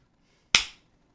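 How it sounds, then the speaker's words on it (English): A single sharp hand clap, close and crisp, standing alone in an otherwise quiet room with a short decaying tail. "So clap to check the audio."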